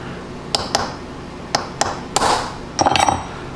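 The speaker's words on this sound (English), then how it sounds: "So we're going to center punch them" A hammer strikes a center punch on a small metal part near a camera, several sharp close metallic taps spaced irregularly, with a quick cluster of lighter taps toward the end, loud and distinct.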